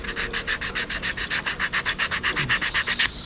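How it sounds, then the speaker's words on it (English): Rapid back-and-forth sandpaper strokes smoothing the cut edges of a cedar wood wake bait, an even, close scratchy rhythm of about twenty rubs with no talk. "some sandpaper here."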